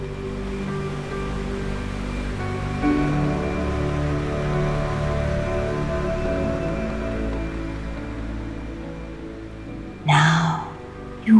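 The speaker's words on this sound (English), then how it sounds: "listen to the sound of waves rolling in before you" Autumn sea waves rolling onto the shore make a steady, soft wash of surf that continues throughout, blended with sustained tonal music.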